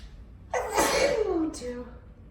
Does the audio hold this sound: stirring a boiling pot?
no